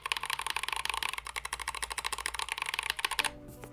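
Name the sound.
typing on custom mechanical keyboard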